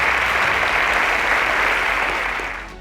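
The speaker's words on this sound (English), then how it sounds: "A round of applause for Chinelolum's teacher." A TV quiz-show audience claps steadily and loudly in a dense, even burst of applause that fades slightly at the end, with no voices over it.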